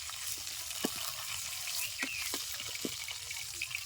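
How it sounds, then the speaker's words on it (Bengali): Fish fries in a pan with a fairly quiet sizzle, broken by scattered sharp pops and crackles of spitting oil that come close and irregularly over a soft low hiss. "মাছটা উল্টা পুল্টা ভাইজা নিছি।"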